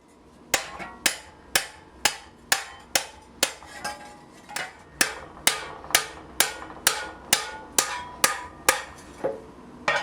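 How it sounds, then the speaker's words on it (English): Steady, ringing hammer blows on steel plate edges over an anvil, roughly two per second, about twenty sharp clangs in a row with brief decays between. "The first step in creating the bevel is to hammer all of the edges down to the angle that you want to use"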